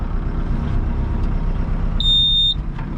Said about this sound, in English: that little loud beeping thing